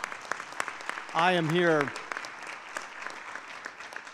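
Audience applause at a high-level HeForShe campaign event, a steady spread of clapping throughout, briefly overlapped by a voice speaking in the middle.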